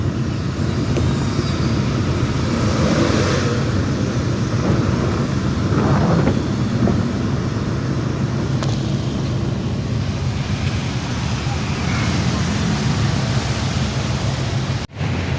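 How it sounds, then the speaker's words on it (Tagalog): Heavy rain roars steadily against a vehicle as it drives, a dense continuous hiss with low road rumble underneath. "Lakas ang ulan oh."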